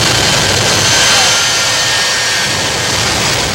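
Twin Westinghouse J34 jet engines power a 1984 Peterbilt truck, producing a loud, steady roaring whoosh with a high whine that stays strong throughout, with no speech on top.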